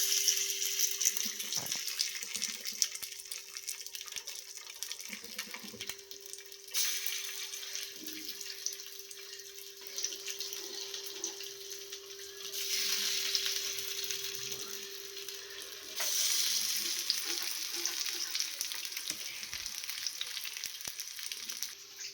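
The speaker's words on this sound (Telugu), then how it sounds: "ఇప్పుడు ఫిష్ పీసెస్ ఇందులో వేసుకోవాలి" Fish pieces frying in an evenly oiled pan for an Apollo fish fry, a soft, steady sizzle rising and falling in stretches, with a faint constant hum and occasional clatter in the background.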